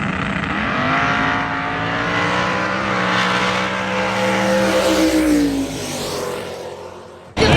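Loud drag race car engines roar and build steadily as they accelerate away in a winter no-prep race, ending with an abrupt burst of noise.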